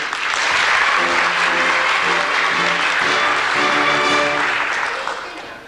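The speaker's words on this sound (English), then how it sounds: "A warm round of applause, if you will, for tonight's guest artiste and London's leading male impersonator, Miss Alice Nutting." Warm audience applause for a guest male impersonator at a 1993 high school musical, The Mystery of Edwin Drood, loud and sustained with a brief rise of music tones underneath, fading slightly toward the end.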